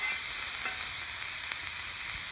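Meat pieces frying in a pot on a Mojoe griddle to start a gravy for Hawaiian loco moco, a steady close hiss and sizzle with faint scraping ticks, no talking.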